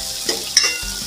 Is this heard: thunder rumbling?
no